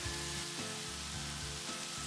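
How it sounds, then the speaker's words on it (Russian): Mushrooms frying over high heat in a hot pan give off a steady, close sizzle, with low cooking-show music playing underneath and no one talking. "Отличное скворчание."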